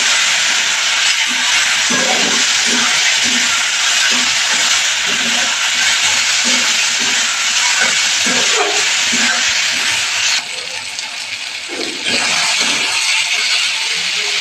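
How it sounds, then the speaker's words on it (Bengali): A cumin and coriander spice paste fries in hot oil, giving a loud, steady sizzling hiss up close, with faint stirring scrapes underneath and a brief dip in intensity near the end. "এবার মশলাটাকে এবার ভালো করে ভাজবো"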